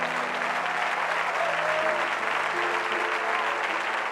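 A church congregation claps loudly and continuously in a large hall during a sermon, dense steady applause with a faint sustained tone underneath and no talking over it.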